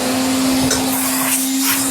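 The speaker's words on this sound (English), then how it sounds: "I'm going to switch on the vacuum cleaner" Vacuum cleaner running close and loud as its hose draws suction on a radiator during a valve change, a continuous steady whine with a strong constant tone throughout.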